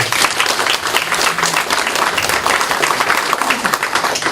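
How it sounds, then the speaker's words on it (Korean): A large audience at a Democratic Party leadership meeting in Gwangju breaks into loud, sustained applause of thanks and encouragement, dense and steady clapping throughout with a few voices faintly mixed in. "우리 모두 큰 감사와 이 격려의 박수 한번 보내시면 좋겠습니다."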